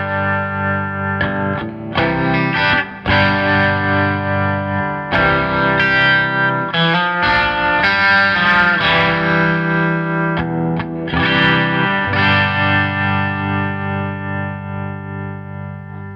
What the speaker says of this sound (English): I primarily love it for the harmonic tremolo